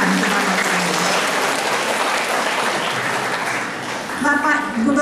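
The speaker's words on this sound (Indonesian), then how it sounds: "Kita tepuk tangan kepada beliau." An audience applauds at a formal Ursuline education gathering attended by a provincial governor, steady clapping throughout with voices speaking over it at the start and again near the end.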